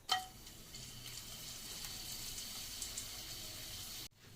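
Dried red chillies drop into hot oil in a pan, a sharp initial splash giving way to a steady, close, even sizzle that continues for several seconds and then cuts off abruptly.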